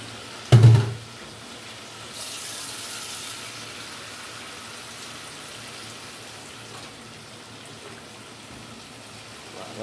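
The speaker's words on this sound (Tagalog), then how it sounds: "Lagyan natin siya ng tubig na para magpapagawa." Water poured into a pot of chicken tinola, a steady soft rushing hiss that follows a short low thump and runs evenly to the end at moderate volume.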